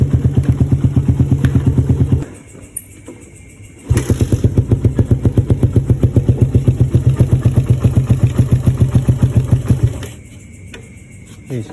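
Suzuki Satria FU motorcycle engine after a carburetor fix, running loud and close with a rapid, steady mechanical beat, dropping briefly to a quieter idle twice before picking back up.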